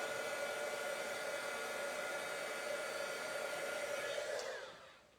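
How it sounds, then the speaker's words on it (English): A handheld heat tool blows hot air to dry ink on a stamped card, a steady close whirring roar held for several seconds before it switches off and winds down. "What I might want to do is actually bring in the heat tool. Just give it a whiz."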